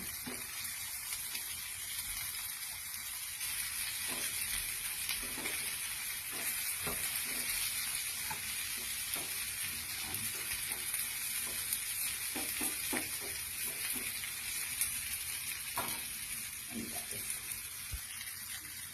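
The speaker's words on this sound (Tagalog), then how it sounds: "ginagay ko na ng ampalaya para igisa" Sliced bitter gourd (ampalaya) sautéing in a hot pan, with a steady broadband sizzle throughout and scattered clinks and scrapes of stirring, close and fairly loud with no voices.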